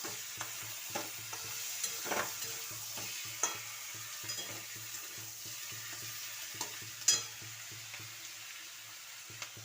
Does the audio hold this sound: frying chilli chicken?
yes